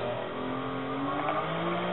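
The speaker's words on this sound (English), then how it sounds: "Revving the gas when you get really high" In a racing sim played on a Fanatec wheel, a car engine revs high in the RPMs, a steady loud buzzing drone with rising tones and no talk over it.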